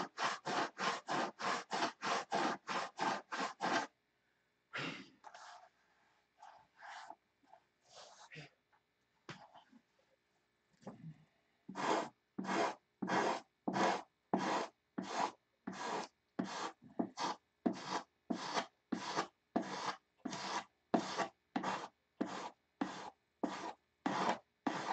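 Wood being hand-sanded with a block, heard as rapid, even back-and-forth rasping strokes in long rhythmic bursts, close and dry, broken by a pause filled with quieter scraping and handling.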